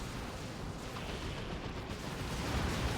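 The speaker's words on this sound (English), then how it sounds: "The multi-las on the Sentinel has horrible accuracy. You can see it shooting all over the place." Sentinel multi-las laser fire in Dawn of War 2: Retribution, a dense, continuous barrage of energy-weapon shots and battlefield rumble that stays loud and steady throughout, blending into a thick wash of distant combat.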